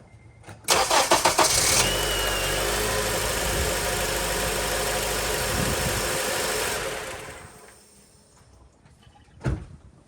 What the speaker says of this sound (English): Let's start the engine now. And let's hear how it cranks with the new, stronger battery.